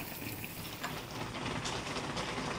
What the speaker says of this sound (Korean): 섞어가면서 끓여주세요.